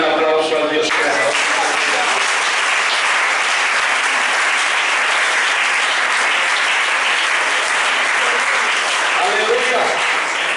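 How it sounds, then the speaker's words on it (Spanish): Church congregation bursts into loud, sustained applause during a doctrine-week sermon, a dense continuous roar of clapping after a brief voice at the start, with a faint voice surfacing again near the end. "Denle un aplauso al Dios creador."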